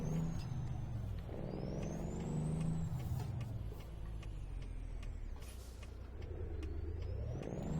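Kenworth K100E cab-over truck in American Truck Simulator, its engine droning steadily at moderate volume with gear-related pitch sweeps and a hiss like an air brake, no talk over it.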